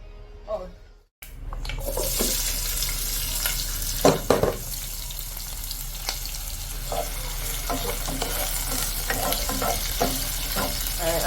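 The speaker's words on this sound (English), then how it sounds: "I'm gonna let these saute" Ingredients sautéing in a pan for bully beef, a steady sizzle after a brief silence near the start, with a few sharp clanks of a utensil and occasional stirring.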